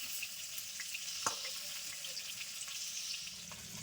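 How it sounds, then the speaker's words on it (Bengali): Pointed gourd (potol) slices fry in a pan with a faint, steady soft sizzle, broken once by a single light clack, with no talking. "পটল ভাজা হচ্ছে"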